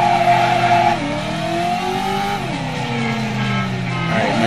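Engine noise from a car in the video game Driver, revving and shifting pitch as it drives, with squealing tires from skidding, loud and continuous throughout.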